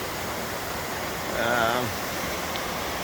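A waterfall on the tropical Queensland coast pours in sections, giving a steady broadband rush throughout, with a brief spoken voice over the roar.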